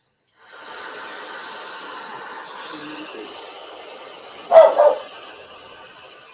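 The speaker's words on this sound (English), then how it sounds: "And then you heard the dog." A dog gives two quick barks from a distance, a short doubled burst rising out of a faint, steady background hiss.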